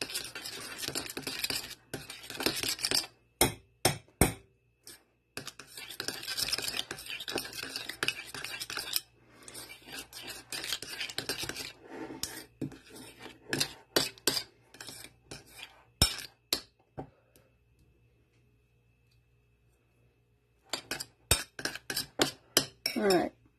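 Softened ingredients for cinnamon rolls are mixed by hand in a bowl, producing bursts of close scraping, clinking and tapping utensil strokes separated by quiet pauses, with no talking.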